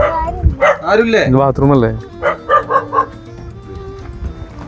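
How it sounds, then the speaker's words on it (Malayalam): A person speaks briefly nearby, then a wary dog answers with a quick run of four or five short, fairly close barks that fade into quieter background noise. "പട്ടിക്ക് പേടിയുണ്ട്, എന്നാൽ കുരക്കും ചെയ്യും."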